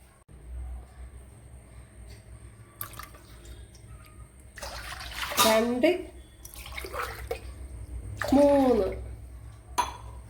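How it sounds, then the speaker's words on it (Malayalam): Water pours into a pan for a grape sweet in a few separate gurgling bursts, each splashing loudly for a second or so between quieter pauses. "ബാക്കി ഇനി വെള്ളം ചേർത്ത് കൊടുക്കാം"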